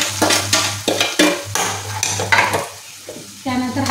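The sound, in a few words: masala frying with roasted onion in a pan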